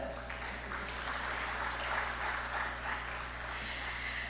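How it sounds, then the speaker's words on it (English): Audience applause fills a conference hall at a 2025 African forum session, steady broadband clapping sustained throughout at moderate level with a constant low hum beneath it. "Please, a round of applause for them."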